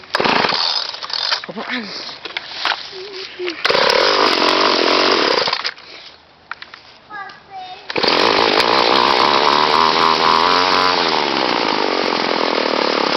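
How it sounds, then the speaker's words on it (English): A small two-stroke weed eater is pulled over and caught on a cold fall start, then roars into loud, steady running with surges, stalling briefly before restarting at a high buzz; people talk near the start. "That's my weed eater."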